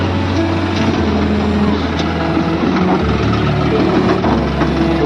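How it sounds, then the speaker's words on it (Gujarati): Mahindra Yuvo 575 DI tractor engine running on a farm while a loader fills it with manure; a steady, loud, close diesel rumble holds through the whole stretch without a break. "જો લોડર ભરી રહ્યો છે અને આ મહિન્દ્રા યુવો છે 575 ડીઆઈ જોન ડીયર ટ્રેક્ટર"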